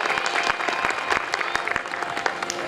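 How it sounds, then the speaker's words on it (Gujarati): An audience at a Lohana community dayro gathering bursts into loud, sustained applause, a dense wash of many hands clapping steadily throughout. "એમને જોરદાર તાળીઓના નાદથી વધાવી લેશો."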